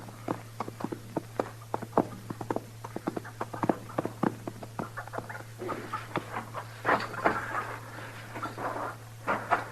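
Irregular hoof clops and thuds on hard ground, several quick strikes in uneven rhythm over a steady low hum.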